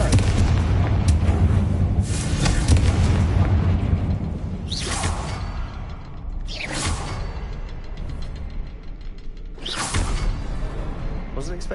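Confringo blasting curses from Hogwarts Legacy burst repeatedly, four sharp whooshing blasts spaced a few seconds apart over a dense, booming low rumble, with a voice speaking amid the noise.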